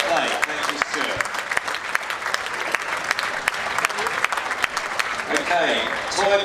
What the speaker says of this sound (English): a huge round of applause for a great job by our Terrier Group judge, Mr. Stuart Blake.